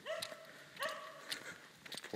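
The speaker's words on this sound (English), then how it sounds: "Hang on a second, this dog's following me." A dog on the street barks repeatedly while following a walker, four sharp, fairly close barks spaced about half a second apart over quiet outdoor background.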